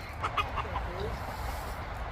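Farm chickens kept alongside ducks and a stray pig give a few quick clucks near the start, then fade under a low rumbling background with a faint voice.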